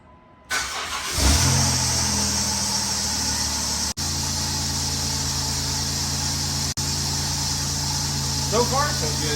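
A car engine with a newly replaced ignition coil starts and settles into a steady, loud idle with slight revving, close by, with a faint voice near the end.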